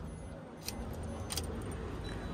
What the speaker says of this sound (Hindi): की को चल दिए करते हैं इंसर्ट